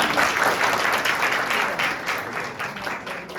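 An audience at a church gathering applauds steadily, a dense patter of many hands at moderate volume that fades slightly toward the end.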